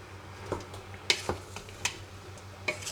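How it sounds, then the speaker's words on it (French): A spoon scrapes and clinks against a pot as oil-coated aubergines are stirred, giving a series of close, irregular knocks and scrapes over a faint sizzle, with no talking. "Donc je mélange bien, le but c'est d'enrober les aubergines d'huile."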